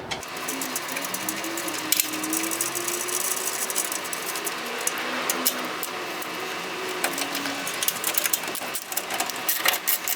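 A ratchet tightens bolts on a sump pump protection plate under a Jeep Grand Cherokee, giving close, continuous clicking and rattling metallic sounds with some scattered clanks and no talking.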